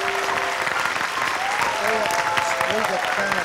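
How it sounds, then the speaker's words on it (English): A church congregation at a revival service applauds steadily and fairly loudly, with scattered voices and tonal sounds rising over the clapping throughout. "Let's give Brother Tim Story a great big hand as he comes tonight."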